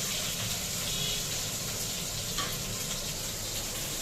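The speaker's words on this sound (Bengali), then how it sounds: "বেগুনটাকে, রসুনটাকে ভেজে নিয়ে বেগুনটাকে ভাজতে হবে" Eggplant and garlic frying in oil in a home kitchen, a steady even sizzling hiss close by with one faint brief tap, no one speaking.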